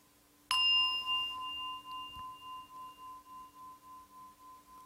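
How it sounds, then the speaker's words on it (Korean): A single meditation bell is struck once during a guided meditation, then rings on with a pure sustained tone that slowly pulses and decays in a quiet room. "이 종소리를 해석하지 말고 가만히 들어보십시오."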